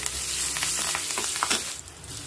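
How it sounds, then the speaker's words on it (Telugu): Curry leaves hit hot oil for a pickle tempering, giving a loud, close, steady crackling sizzle that fades slightly near the end, with no talking. "కొంచెం కరివేపాకు"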